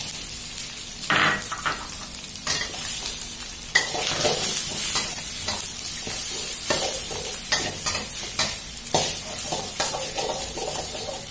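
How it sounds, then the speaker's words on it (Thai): Onion stir-fried with crumbled salted egg in a pan, a steady loud sizzle broken by repeated scraping stirs of the spatula and occasional clinks of metal. "เราผัดหอมใหญ่จนหอมเล็กน้อยแล้วนะคะ"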